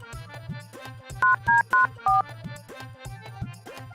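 A ringtone plays on a phone being called to reach a bank, with four short loud electronic tone bursts in quick succession over a steady background musical loop.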